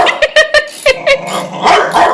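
Close, loud barking from a dog reacting to a kicked bucket, several quick sharp barks in a row followed by a rougher, longer yelp.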